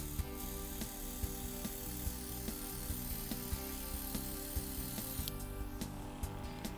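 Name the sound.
airbrush machine running on low setting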